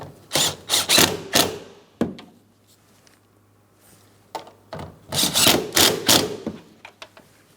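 A hand ratchet snugs up the mirror mounting nuts on a 2004-2008 Pontiac Grand Prix in two close bursts of quick clicking strokes, separated by a few quiet seconds with faint handling noises.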